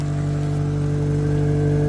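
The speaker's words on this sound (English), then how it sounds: "It sounds like a real car. Yeah, it's a tiny bit loud from the muffler" A Toyota Matrix engine running through a newly fitted exhaust and muffler, heard as a steady, loud, low droning hum with a constant pitch, close by and without talking.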